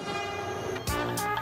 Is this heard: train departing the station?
yes